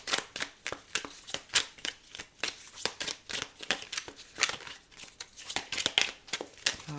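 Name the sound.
tarot cards being shuffled and handled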